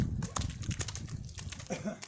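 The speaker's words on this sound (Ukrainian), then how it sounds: "Кобила їде, що взад, що вперед, назад, назад" Rhythmic hoof clops of a draft horse mare walking, close by, with a voice talking over the steps.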